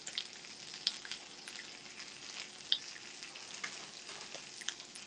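Onions frying in a pan for home yakiniku give off a steady, close crackling sizzle with scattered sharp pops, and no one speaks.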